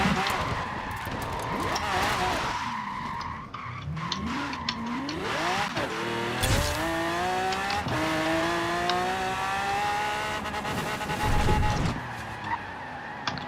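A 1969 Pontiac GTO Judge in Forza Horizon 4 brakes hard with its front wheels skidding, a long rising tire squeal layered over the engine, repeated through several stops with shifting pitch.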